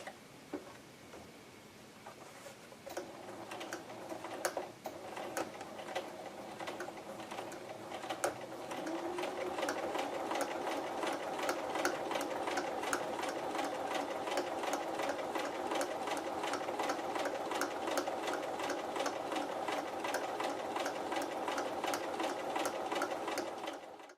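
A sewing machine stitches a natural cotton Chelsea bag around its handle, starting with a few hesitant stitches before settling into a fast, steady, close mechanical chatter that runs unbroken to the end.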